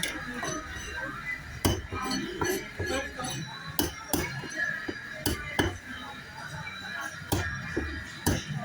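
A knife cuts and cleans fish at a market stall, with sharp clinks and knocks of the blade against a board or metal, irregularly spaced, over background chatter and bustle.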